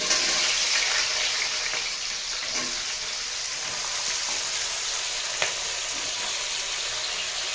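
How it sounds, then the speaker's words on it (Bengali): Onions frying in hot oil, a steady bright sizzle holding throughout with a few faint clinks, close and alone without talk. "পেঁয়াজগুলো দিয়ে দেবো।"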